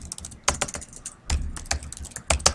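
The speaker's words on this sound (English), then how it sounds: "Press spacebar and then type membership" Computer keyboard typing heard up close, clusters of sharp key clicks and heavier spacebar-like thumps in uneven bursts, fairly loud with no talk.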